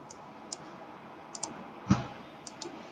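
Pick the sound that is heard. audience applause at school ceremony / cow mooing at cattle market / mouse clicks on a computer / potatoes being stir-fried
mouse clicks on a computer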